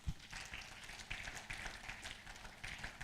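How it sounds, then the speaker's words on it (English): Faint, distant applause from an audience at a business network event, scattered claps with uneven bursts across a quiet, low-level hall sound. "Round of applause for her, please."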